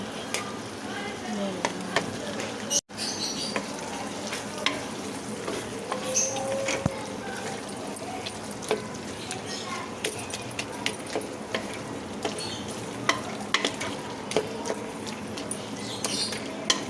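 Arbi and eggplant frying in a pan and being stirred, a soft continuous sizzle with scattered clinks and scrapes of a utensil against the pan throughout.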